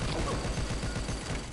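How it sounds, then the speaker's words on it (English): A firework in the mobile shooter game Pixel Gun 3D goes off as a rapid crackling burst of small pops, fairly faint and fading toward the end. "It's a firework."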